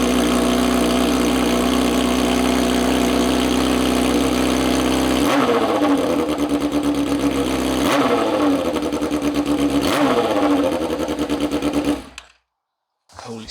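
A Honda CB600F Hornet motorcycle engine with a decat exhaust runs loud and close, idling with a rough mechanical whirr and sharp revving bursts before cutting off near the end.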